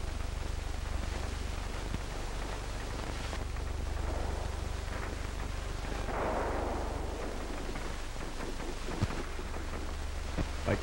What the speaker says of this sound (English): Heavily populated areas and South Vietnamese army barracks were hit with heavy gun and rocket fire.